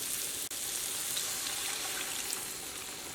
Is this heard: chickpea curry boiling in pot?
yes